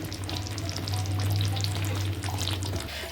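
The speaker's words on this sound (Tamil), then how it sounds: "சிம்மிலே வச்சு நல்லா கொதிக்கிட்டோம்." Shallot kara kuzhambu curry simmering in a pan on the stove, steady sizzling and bubbling, a continuous low hum with crackling over it, no voices.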